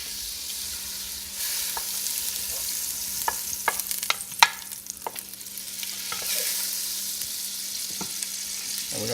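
Half a stick of butter sizzles in a pan for Cajun shrimp pasta, a steady hiss with scattered sharp clicks and pops, fairly close and without talk.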